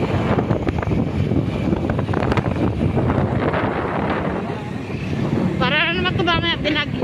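Strong wind gusting during a typhoon in Pasig and Mandaluyong City, roaring steadily against the microphone throughout, with a brief burst of voices near the end.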